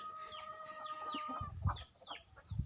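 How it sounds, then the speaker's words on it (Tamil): A brooding hen that hatched five chicks clucks softly in short, uneven bursts, with other birds chirping faintly around it and some low rustling nearby. "இந்த கோழி வந்து அஞ்சு பொறிச்சிச்சு"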